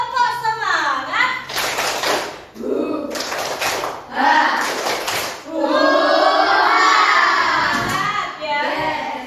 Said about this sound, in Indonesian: Semangat dong, tepuk semangat.